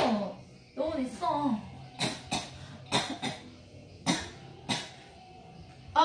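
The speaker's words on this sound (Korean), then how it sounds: "고추장찌개 보자마자 기침 나와." Several sharp coughs ring out one after another in an indoor setting, loud and close, with bits of speech between them before the coughing fits take over.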